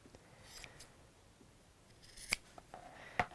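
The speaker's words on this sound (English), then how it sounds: "I'm just going to trim back these seams." Sewing scissors trim back fabric seams in a quiet room, giving a couple of crisp, distinct snips near the end against faint background rustling.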